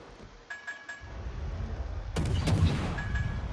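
Warship guns firing in a naval battle video game: a few sharp booms, followed by a louder burst of heavy salvos near the end against a steady rumble of engine and sea.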